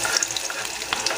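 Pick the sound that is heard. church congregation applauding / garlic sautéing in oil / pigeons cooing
garlic sautéing in oil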